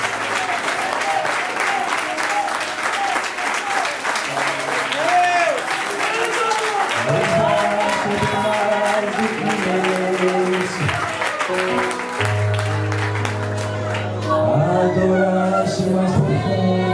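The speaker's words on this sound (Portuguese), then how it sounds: "Curve a tua cabeça, fecha os olhos e aplauda o Senhor." A church congregation claps steadily for a long stretch while a voice speaks over the applause and music swells underneath.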